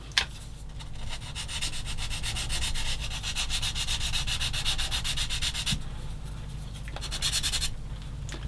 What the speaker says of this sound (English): Sand off on the end.